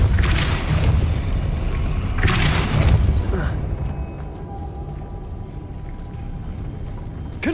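Depulso force spell in Hogwarts Legacy gives two heavy booming thumps about two seconds apart, followed by a quieter rumbling decay and faint mechanical ambience.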